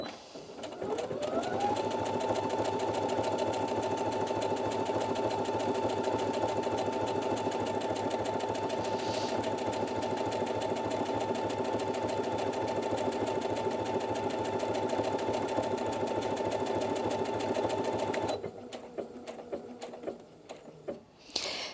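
A Brother Innov-is NV2700 sewing machine feeds fabric through under its presser foot, a close, loud, steady motorized whir with rapid needle chatter for about eighteen seconds before stopping, followed by a few faint clicks.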